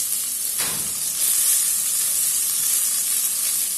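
Onions sauté in hot oil with a continuous bright sizzle and hiss, close and steady throughout, no voices.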